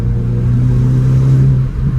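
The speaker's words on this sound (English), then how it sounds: "It sounds great for a stock exhaust." A 2024 Hyundai i20N with its stock exhaust accelerates, giving a loud, steady, deep engine drone with a low tone that holds for two seconds, heard alone.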